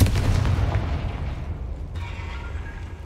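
A Confringo fire spell in the video game Hogwarts Legacy bursts with a loud, booming blast that rumbles and fades, followed by a thinner crackling tail; no voices.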